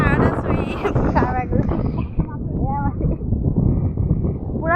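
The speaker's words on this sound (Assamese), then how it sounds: "পূৰা বতাহ মাৰি আছে, পানীবোৰ একদম ঢৌ উঠি আছে, বতাহ পূৰা মাৰিছে।" Strong wind gusts across an open field beside rippling water, roaring and buffeting against the microphone, loud and continuous under a person talking.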